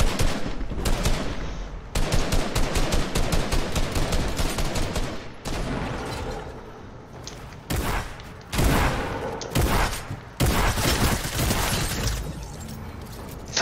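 Rapid bursts of automatic gunfire in the video game Fortnite, loud and dense, with volleys broken by short pauses over the whole stretch.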